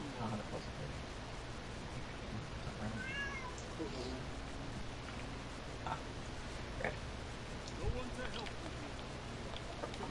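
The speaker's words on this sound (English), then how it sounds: "she's in my bedroom over here, underneath our dresser, meowing" A pet cat meows from underneath a bedroom dresser, a few faint, short calls scattered through a steady indoor background with low hum.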